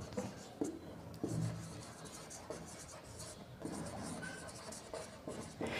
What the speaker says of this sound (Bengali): যেমন আমি তিনটা ওয়ার্ড লিখলাম